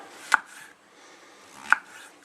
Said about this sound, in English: Just a big size mushroom, and just cut it in a reasonable size.